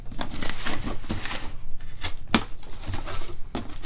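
Snap-on knife slicing open a cardboard box holding a Sundown Audio SA-12 subwoofer recone kit, close crinkling and scraping cuts in quick uneven strokes, with one sharp crack partway through.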